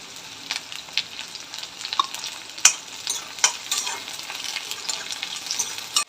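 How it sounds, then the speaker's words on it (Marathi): Chopped onion, green chilli and curry leaves fry and get stirred in a pan for kande pohe, a steady crackling sizzle broken by sharp scraping clinks of a spatula, with no one speaking. "तो कांदा टाकून घेऊया मिरची आणि कढीपत्ता टाकून घेऊ"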